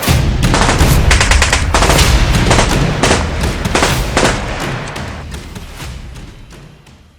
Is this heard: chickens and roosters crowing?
no